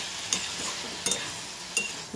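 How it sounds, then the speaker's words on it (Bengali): Ridge gourd and potato frying in a pan sizzle steadily up close, broken by three sharp stirring scrapes spaced evenly apart. "আমি ভাজতে দিয়েছি, ঝিঙে আলুটা ভাজা হচ্ছে"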